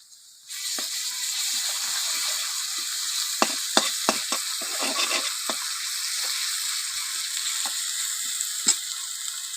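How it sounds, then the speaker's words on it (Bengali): Potatoes and garlic paste sizzle in a pan with a loud, steady frying hiss after a brief quiet start, broken by scattered clicks and scrapes of stirring. "আমি এখানে দেবো একটু রসুন বাটা"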